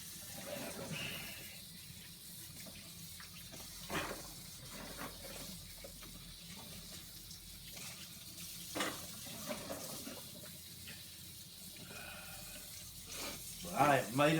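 Tap water runs steadily over habanero chillies being washed a second time in a sink, a continuous close splashing stream lasting throughout, with brief louder bursts near the end.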